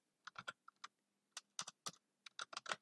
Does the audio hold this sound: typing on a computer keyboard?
yes